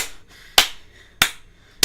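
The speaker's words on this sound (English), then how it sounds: "Round of applause." A single person gives three sharp, close handclaps, evenly spaced about half a second apart, with quiet between them.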